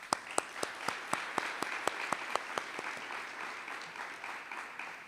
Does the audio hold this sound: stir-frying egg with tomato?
no